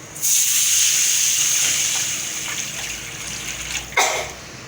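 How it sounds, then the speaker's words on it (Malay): Water poured into a hot wok for kuey teow hits with a loud, steady hissing sizzle that gradually eases, followed by a brief sharp burst of spitting near the end; close and alone. "kita kuatkan api masukkan air"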